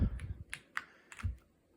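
Close, quick keyboard presses of Alt, Shift, the arrow keys and the space bar, a handful of sharp clicks in an uneven rhythm with low thumps from the keys.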